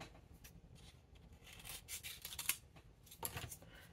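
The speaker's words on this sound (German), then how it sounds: "Ich schneide mir hier mal so ein Stück ab." Scissors cut a piece of paper sample close by at a low level, giving a few soft, uneven snips and rustles with no voice.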